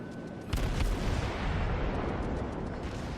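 Ship guns firing shells in World of Warships: a heavy, booming salvo erupts and rolls on as a sustained, loud rumble of cannon fire.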